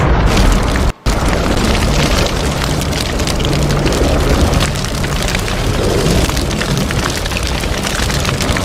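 A loud fire blast explosion sound effect opens with a sharp boom, followed by a brief dropout near one second, then a sustained roaring, crackling rumble that fills the rest of the stretch without pause.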